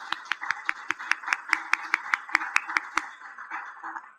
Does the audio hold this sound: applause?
yes